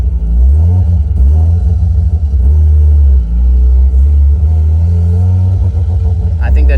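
A Mazda RX-8 with a bridge-ported rotary engine, running rough at high RPM with a hesitation, gives a loud, close, sustained rumbling drone with a slight dip partway through.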